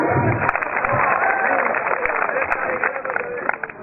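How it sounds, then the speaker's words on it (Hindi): Audience applause at the close of a Hindi poetry recital, continuous clapping from a crowd with a voice speaking over it at times. "कथा समाप्ति, तालियां लो।"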